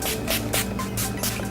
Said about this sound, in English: I'm going to set it with my Skindinavia setting spray.